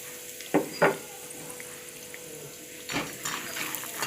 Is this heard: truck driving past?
no